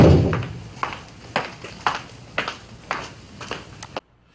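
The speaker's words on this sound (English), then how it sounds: "what you hear is footsteps, a door shut, and then her walking" Recorded footsteps tap evenly about every half second, ending with a door shutting, all fairly close and quiet, followed by near silence.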